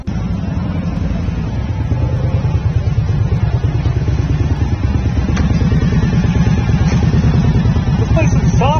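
A motorcycle engine rumbles steadily throughout, loud and close, with a harmonic drone that rises slightly toward the end.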